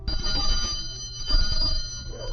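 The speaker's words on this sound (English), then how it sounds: "ringing a bell to call dogs" A bell rings continuously with a bright, trilling metallic tone, fairly loud and steady throughout, with no voices.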